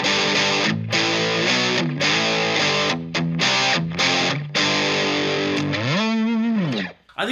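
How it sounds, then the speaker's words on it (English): An electric guitar played through a Boss DS-1 distortion pedal rings out in loud, saturated sustained chords and notes, ending with a bending, wavering phrase before cutting off. "Take a look back at this distortion pedal."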